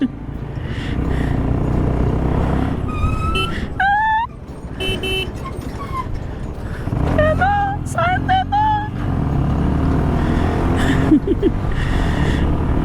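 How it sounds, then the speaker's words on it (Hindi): A truck's engine rattles loosely as it speeds along a mountain road near Tangtse toward Durbuk in Ladakh, with steady close engine roar and several car horn toots breaking through. "ट्रक के इंजन पिंजर ढीले हो रखे हैं"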